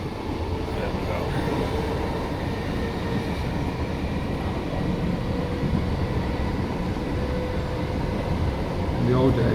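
A Northern Rail train runs down the line toward St Helens Junction, heard from inside as a steady, loud rumble and rattle of wheels and carriage with no breaks in the noise, and a voice may speak over it.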